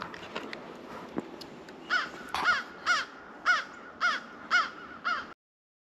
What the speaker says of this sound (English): It's a bird of prey being mobbed by crows.